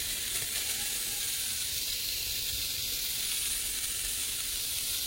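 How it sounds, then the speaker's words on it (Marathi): Chopped onion sizzles on a hot tava griddle, a loud, even hiss of frying that carries unbroken from start to finish without any voices. "आता मी तवो तापलो त्यामुळे आता मी हो कांदो तव्यात टाकतोय"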